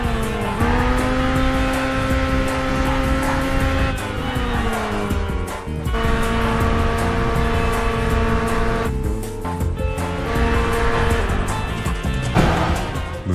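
A race car tearing around a track in the PS2 game Burnout, engine droning loud and steady with pitch shifts as gears change, plus some tire noise, with no voices.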